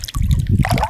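A fish is slipped back into river water, producing a brief close splashing and gurgling of liquid lasting about a second.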